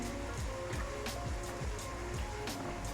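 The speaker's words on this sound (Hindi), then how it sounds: "चिकन हमारा ज़ोरों शोर से फ्राई हो रहा है।" Chicken fries vigorously in a pan for a desi masala macaroni dish, giving a dense, constant crackling sizzle with occasional light taps and stirring sounds and no voices.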